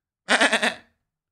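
A person's voice imitating a goat, giving one wavering bleat with several quick pulses, close and fairly loud, followed by silence.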